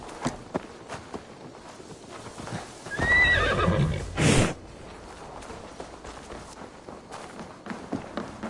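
A horse whinnies loudly and close in Assassin's Creed Valhalla, one drawn-out neigh, while hooves clip-clop and footsteps tap around it at a walking pace.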